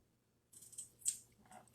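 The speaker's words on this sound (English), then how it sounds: "This is just a regular potato peeler" A regular potato peeler scraping across a potato, a faint, close, rasping scrape lasting about a second after a short silence, no talking.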